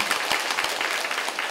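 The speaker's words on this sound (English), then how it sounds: "And your enthusiastic clapping." An audience applauds with steady, dense, enthusiastic clapping that continues evenly for the whole short stretch, with no talk over it.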